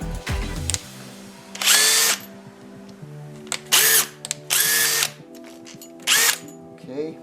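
A power drill whirs in several short bursts, spinning up and stopping repeatedly while driving a bit into a log for log cabinet building, with a low mechanical hum and some clatter between runs.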